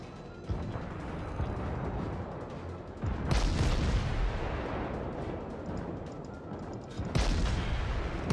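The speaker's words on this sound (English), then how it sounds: "Not very accurate cannon, I would say." Ship cannons firing in World of Warships: two heavy, booming blasts several seconds apart, loud and close, over a constant rumbling battle background.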